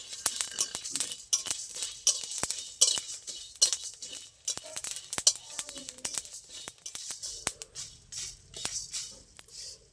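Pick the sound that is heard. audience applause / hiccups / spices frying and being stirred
spices frying and being stirred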